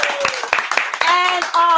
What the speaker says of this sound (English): Clap it up for D.